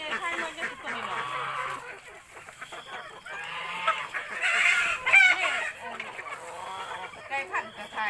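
Laying hens cluck in busy, overlapping calls at close range on a mixed farm that also keeps fish and ducks, with a rooster crowing once near the middle and people talking underneath.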